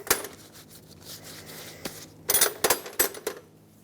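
A wrench tightening a brake proportioning valve fitting on a 1995–2004 Toyota Tacoma, with metallic ratcheting and clinking, faint at first, then a quick cluster of sharp clicks near the end.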